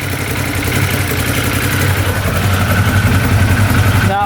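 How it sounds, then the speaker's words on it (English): UTV engine idling steadily at about 1300 RPM after repair, a loud, close, even rumble with a regular low pulsing throughout. "Engine sounds really good."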